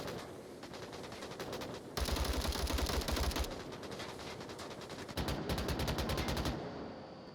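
Rapid automatic gunfire from a VR shooter match in Onward, long rattling bursts of closely spaced shots, some heavier and nearer, continuing almost without pause.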